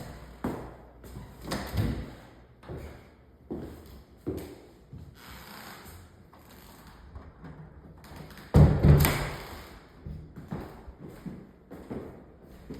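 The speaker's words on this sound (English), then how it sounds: "let's go ahead and shut these doors so you can see what it looks like with the doors shut" Interior doors of a house being swung shut, a series of soft thuds and knocks with one heavier slam near the end, close and clear in an otherwise quiet room.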